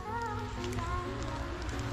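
Rain falling on a campsite in the Watagans, a soft, steady patter heard faintly with a low hum underneath and no talking.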